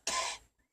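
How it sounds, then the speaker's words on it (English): A single short, sharp cough, close and fairly loud, heard alone during a radio interview. "I'm sorry, I didn't mean to cough."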